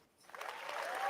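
Canned applause played from a soundboard button, rising from near silence into a steady, loud clapping crowd that swells toward the end.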